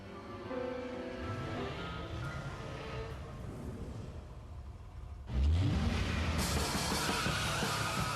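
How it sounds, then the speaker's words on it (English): A 320-horsepower V8 Cadillac STS accelerates with a steady engine rumble that surges louder partway through into a hard, rising roar, close and alone without voices. "The 320 horsepower V8 Cadillac STS."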